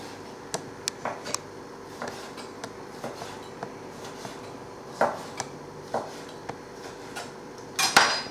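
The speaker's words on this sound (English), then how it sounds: "So we'll just cut the rings up here." A knife slicing a cleaned calamari tube into rings on a cutting board, a series of sharp separate chops at an uneven pace, fairly close and fairly quiet, with no talking.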